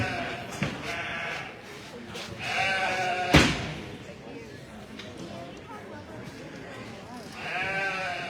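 Sheep bleat intermittently amid a busy, noisy pen during a blade shearing competition, with people talking throughout and a sharp thump partway through.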